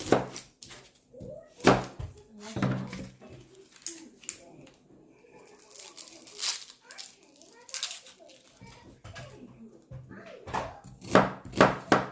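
An onion is chopped with a knife on a cutting board for an Ilocano pork cassava dish, making close, sharp, irregular knocks in clusters of quick strikes with brief pauses.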